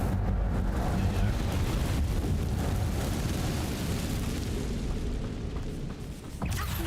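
Incendio fire spell in Hogwarts Legacy, a loud sustained roaring whoosh of flame filling the clip and easing off near the end.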